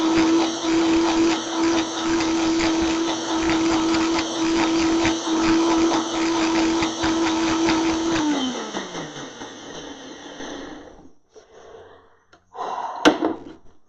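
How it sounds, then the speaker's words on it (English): A Vitamix blender runs at high speed on garlic, a loud and steady whine that holds for about eight seconds, then winds down, and a short burst of clatter follows near the end. "I want to make sure all of the garlic is completely vitamized"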